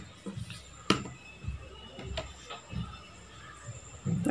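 A sewing machine stitches a blouse neckline, running in short mechanical bursts with brief pauses between them, close and fairly quiet.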